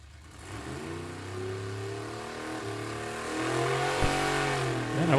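A 1962 Ford Falcon drag car at a vintage drag race idles and revs with a rough, lumpy engine note. It swells louder toward the end with a sharp pop, heard from a moderate distance among outdoor track ambience.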